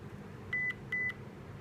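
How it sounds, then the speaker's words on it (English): A Digoo smart Wi-Fi baby monitor camera emits two short, pure electronic setup beeps about half a second apart, clear above a low background hum. "Okay, I heard the beep,"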